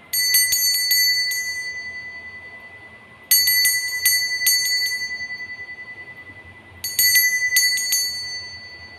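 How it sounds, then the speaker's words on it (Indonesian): A bell rings three times to open a Pisces tarot reading, each bright, resonant strike ringing out and slowly fading before the next, spaced about three seconds apart over a faint low background. "kita akan memulai dengan ditandai lonceng berbunyi"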